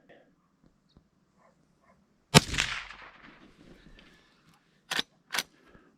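A Henry Classic lever-action .22 Magnum rifle fires Federal rounds from a cold bore: one loud, sharp report with a trailing ring, then two more quick shots a few seconds later, outdoors with faint background murmur.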